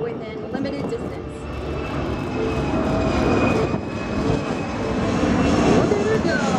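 An aircraft climbs steeply away at over 30 degrees nose up at the Singapore Airshow, its engine producing a loud, sustained roar that swells gradually, with an announcer speaking over it.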